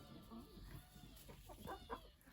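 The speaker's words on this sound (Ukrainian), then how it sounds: "Півник. Неймовірно, грандіозний птах." A rooster in a backyard poultry run at a country cottage gives a few soft, faint clucks over low background noise, without any talk.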